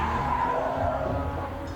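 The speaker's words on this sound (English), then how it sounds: "the squealing tyres are once again Tom Harvey in the quick brew" Tyres of a classic racing car squealing through a corner at a circuit race meeting, a sustained tonal screech with engine roar underneath, loud and steady for under two seconds, no voices.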